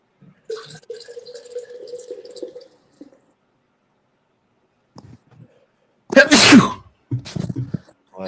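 A single loud, sharp sneeze bursts out near the end after quiet stretches with faint tones and small noises, followed by brief talking.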